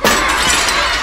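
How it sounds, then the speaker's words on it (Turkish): Drinking glasses shatter in one loud, close burst of breaking glass that rings briefly and then fades, with no speech. "Bardakları kırayım diyeceğim."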